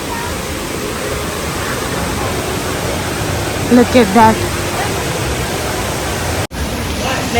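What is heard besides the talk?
indoor waterfall at Jewel, Singapore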